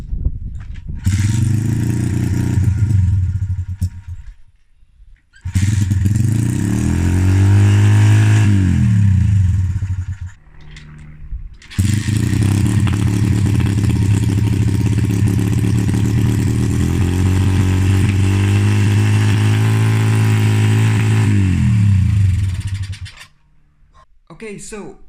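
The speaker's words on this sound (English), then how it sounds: "the pit bike runs, kind of. It is sucking in air somewhere, there's a leak somewhere, which is causing it to idle really high." A $50 Craigslist 125cc pit bike with an air leak runs loud and close, its engine revving up and settling into a high idle across three long runs separated by brief cutouts.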